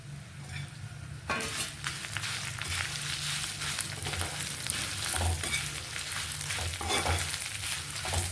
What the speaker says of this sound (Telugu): ఈ ఎండుమిర్చి వేసి వేయించుకోవాలి.